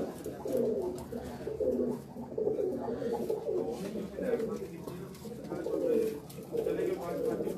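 Pigeons coo steadily in low, throaty warbles, close by, with soft background murmuring and rustling.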